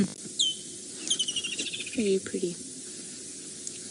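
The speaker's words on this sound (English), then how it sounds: "That making that noise was a francolin that all of a sudden realized it's surrounded by many lions." A francolin calling near a pride of lions on safari, sharp bursts of harsh chirping notes in short clusters, moderately close, with a person speaking briefly and faint background ambience.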